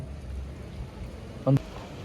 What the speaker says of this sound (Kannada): ನಮ್ಮ ಧಾರವಾಡದಲ್ಲಿ ಮಳೆ ನೋಡಿ